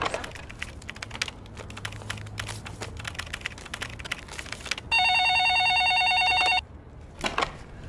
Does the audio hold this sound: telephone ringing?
yes